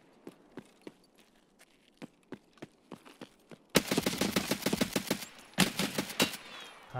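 Rapid bursts of automatic rifle fire in Escape From Tarkov, likely an AK-545: sparse single shots and footsteps at first, then dense, loud sustained bursts in the second half.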